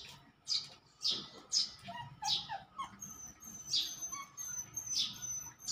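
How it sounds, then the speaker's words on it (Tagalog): A pair of released pigeons, heard as a series of bright, repeated bird calls and chirps in close succession, fairly near and moderately loud, with no talk over them. "Pinakawalan ko yung dalawa mga kalapatid, so yung mag-asawa."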